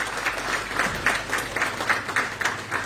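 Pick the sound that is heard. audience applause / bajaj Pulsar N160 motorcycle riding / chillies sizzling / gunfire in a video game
audience applause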